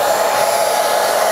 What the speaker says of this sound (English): The way you solve that is with your wife's hair dryer right here